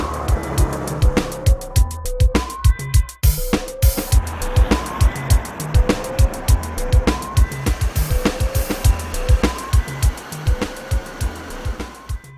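An MBK Flipper 115 scooter rides past with a buzzing small-engine drone that rises and falls, punctuated by regular rhythmic thumps, loud and close throughout with no talking.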